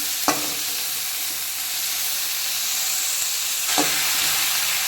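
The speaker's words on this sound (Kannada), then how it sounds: "ಈಗ ಟೊಮೆಟೊ ಆಲೂಗಡ್ಡೆ ಹಾಕಿ ಒಂದು ಐದು ನಿಮಿಷ ಚೆನ್ನಾಗಿ ಬದಲೋಣ" Tomato and potato sauté in a pan for a lentil sambar, giving a steady, close sizzle. Two brief scraping stirs break through the frying, one near the start and another near the end.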